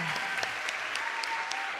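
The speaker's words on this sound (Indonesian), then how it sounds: "Tepuk tangan." A church congregation at a combined children's and youth service claps together in a brief burst of applause, a dense patter of many hands, fairly close, with faint voices underneath.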